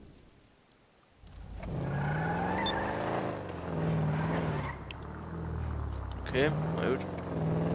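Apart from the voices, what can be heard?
Gauntlet muscle car driving in the video game GTA V Online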